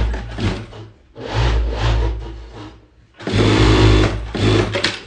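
An industrial sewing machine in a factory stitches sportswear in loud, close bursts of rapid mechanical whirring, with brief pauses between runs.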